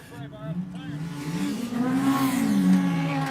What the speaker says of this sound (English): we still have more and more cars cruising through